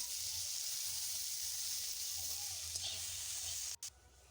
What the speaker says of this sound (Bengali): পেঁয়াজ কাঁচা লঙ্কাটা ভালো করে একটুখানি ভেজে নিচ্ছি